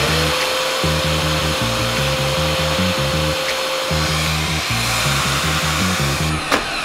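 Vacuum cleaner dredging a carpet for gold: a loud, close, constant motor whine with a chattering, pulsing rattle of debris being sucked up underneath, running unbroken with no talk.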